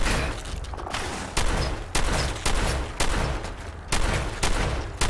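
Combat shotgun firing in Fallout 4, a series of loud, close blasts at roughly one-second intervals, each with a sharp attack and a decaying tail, with no voices over them.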